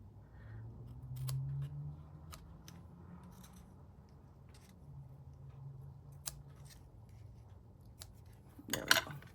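Scissors trimming paper cards for a stamp club craft project, a few soft, sparse snips close by in a quiet room with faint rustling.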